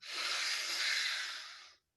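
A long, full breath during a slow, deep breathing practice, a close, steady airy rush that holds evenly for nearly two seconds and then cuts off into silence, heard alone with no talk.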